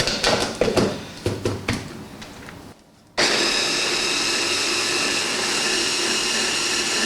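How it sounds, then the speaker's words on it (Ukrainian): A few knocks and clatters, a brief pause, then a blender whirs loudly and steadily at high speed until the end. "Ми його збиваємо в блендері"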